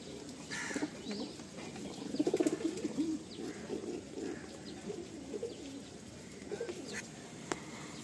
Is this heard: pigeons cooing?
yes